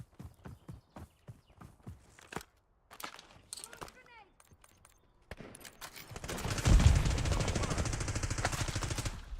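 Hip-fire gunshots in Call of Duty Black Ops 6: sparse, sharp single cracks at first, then a loud, dense stretch of rapid fire in the final third, with voices talking through it.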